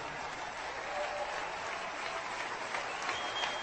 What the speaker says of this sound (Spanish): Le recibimos con un aplauso grande.